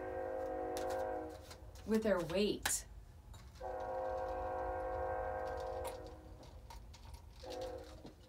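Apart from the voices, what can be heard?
train passing by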